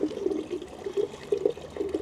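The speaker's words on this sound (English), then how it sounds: "Look at the water that's pouring out of here, eh?" Water pouring steadily out of a caged old well on a town street, a close burbling flow with uneven splashy pulses.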